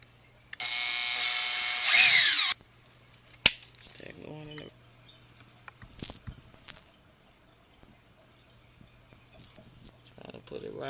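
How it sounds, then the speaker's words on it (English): A power drill bores holes into a wooden garden box built as a flower bed, with a loud, steady whine of about two seconds near the start. A sharp click and scattered handling noises follow, and a voice briefly talks. "so now we want to do some pallet holes. I'm going to do 4."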